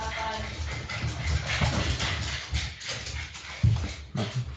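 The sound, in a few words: dogs barking and whimpering excitedly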